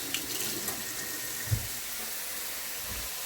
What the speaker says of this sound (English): Want to rinse them off for good measure.